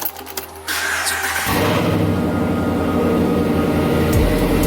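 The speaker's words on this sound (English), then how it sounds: "I'm gonna go ahead and start the truck up real quick" A Ram truck engine, fitted with an exhaust cutout, cranks briefly and then fires up into a loud, steady idle that rumbles close by and keeps going.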